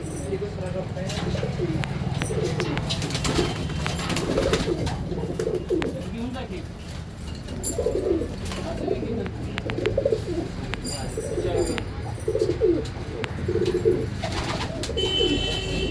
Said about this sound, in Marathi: हे सगळे कबूतर उडलेले आहेत.